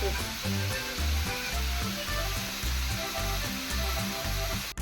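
Grated coconut roasting in a pan for a coastal-style crab curry, a steady close sizzle and crackle with rhythmic scraping strokes of stirring throughout.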